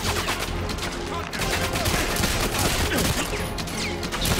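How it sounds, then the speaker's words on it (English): Rapid gunfire in Goldeneye 007: Reloaded, a dense run of overlapping shots and impacts filling the whole stretch, loud and close, with a voice talking faintly underneath. "This is my handgun."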